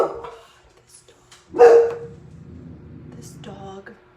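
A dog indoors gives one loud, close bark, with smaller yips and whines around it. Someone speaks before and after.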